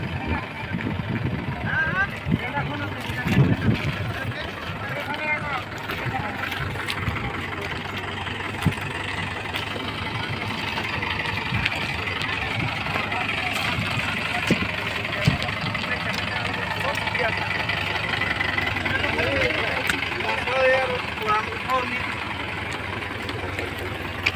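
A Mahindra 4x4 tractor engine idles steadily in a field after getting stuck in a pit with its rotavator removed, a low continuous rumble with occasional knocks as people talk over it.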